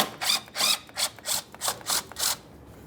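A 10mm ratchet loosens mounting bolts on a 2013-2020 Ford Fusion windshield washer reservoir, with seven quick, evenly spaced clicking bursts heard up close, then a stop.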